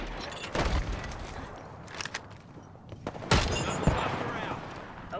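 Gunfire in a video game comes in several sharp, loud bursts and cracks with a rumbling background in between, and the heaviest shots land near the end.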